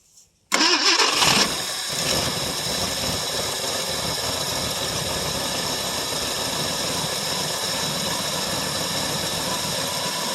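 A 1968 Ford LTD two-door hardtop with a 390 FE V8 cold-starts after sitting about three years: a brief cranking burst, then the engine catches and settles into a steady, loud, rough idle that runs close by without talk.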